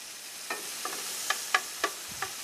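Bacon frying in a pan gives a steady broadband sizzle, with a handful of sharper pops and clicks spaced through it as the strips are flipped.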